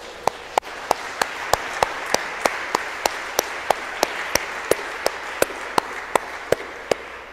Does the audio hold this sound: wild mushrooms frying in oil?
no